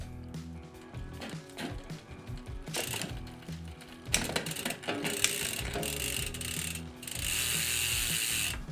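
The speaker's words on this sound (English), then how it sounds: "I'm going to shift it up just a couple gears." A mountain bike's rear derailleur shifts up a couple of gears while the pedals turn, giving a close ratcheting freewheel clicking, chain rattle and busier metallic shifting noise that grows louder toward the end, with no talking.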